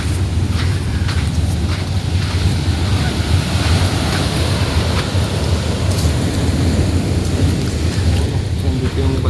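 Sea waves wash in at a beach during wedding preparations, a loud, continuous roar of surf mixed with wind buffeting, with no distinct talk.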